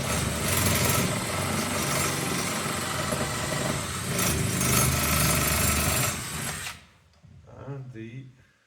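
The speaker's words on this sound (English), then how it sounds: "then we can take our drill again" A loud, continuous power drill whines for several seconds drilling a screw hole, then cuts off, followed by a short stretch of quieter talking.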